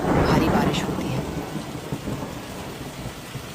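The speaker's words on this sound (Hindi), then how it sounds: "अचानक आसमान पर काले बादल छा जाते हैं, बिजली कड़कती है, भारी बारिश होती है।" Heavy rain with thunder, a loud rumbling crash at the start that fades into a dense, steady downpour hiss for the rest of the few seconds, with no voices.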